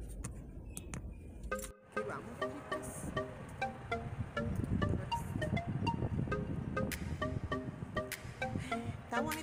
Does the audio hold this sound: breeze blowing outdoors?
yes